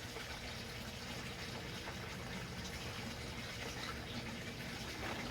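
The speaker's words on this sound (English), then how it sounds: "then you water the plant" Water pours and splashes steadily, a continuous quiet gushing as liquid is pumped or poured onto soil, with no voices.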